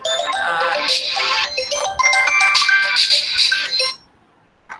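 A bright electronic ringtone melody plays loudly for about four seconds, then cuts off abruptly into near silence.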